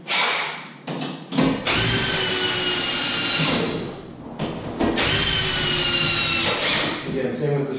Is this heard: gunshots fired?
no